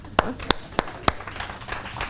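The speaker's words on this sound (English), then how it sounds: "Yeah, go ahead, clap." Hands clap in a steady, sharp rhythm, about three crisp claps per second, close and fairly loud, with a few softer claps trailing at the end.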